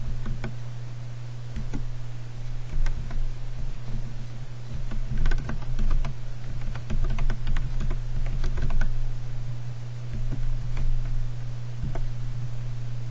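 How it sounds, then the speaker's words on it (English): Keys clatter on a computer keyboard as a command is typed into a Manjaro Linux terminal, a steady run of close, crisp clicks with a few firmer strokes over a constant low electrical hum. "you gotta uh, type in this command here"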